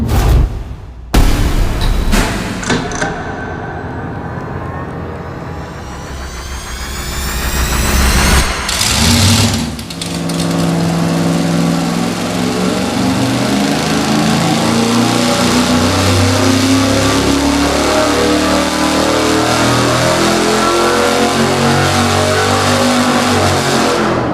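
On a dyno, an engine fitted with an 850 carburetor fires up with a few sharp bursts, then settles into a loud, sustained rev and holds a steady roar for a long stretch.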